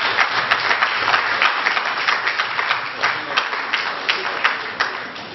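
Sustained applause from a crowd at an election event, with dense clapping that pulses steadily throughout and has no break.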